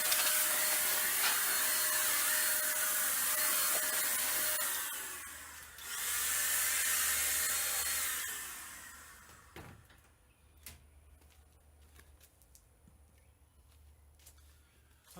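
Compressed air blasts dust out of an open PC case with its side panels removed. A loud steady hiss runs for several seconds, breaks briefly, resumes, then cuts off, followed by faint clicks and handling.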